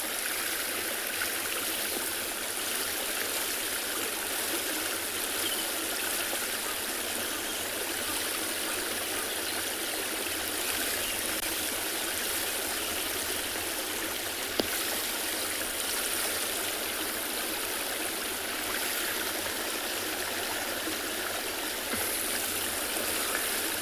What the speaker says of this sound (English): the flowing sound's just coming from the little weir here where the water is overflowing on the spillway